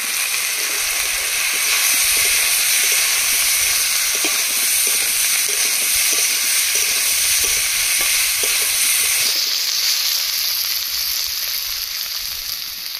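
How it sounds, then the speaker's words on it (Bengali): Boiled potatoes fry and sizzle steadily in a pan for a tilapia curry, with a dense continuous hiss and faint spatula scrapes; the sizzle thins slightly toward the end. "সিদ্ধ করে রাখা আলু দিয়ে আলুগুলো কষিয়ে নেব।"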